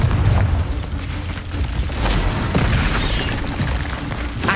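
Bombarda spell blast in Hogwarts Legacy, a rumbling boom with a dense, sustained roar filling the whole stretch at steady loudness, no voices.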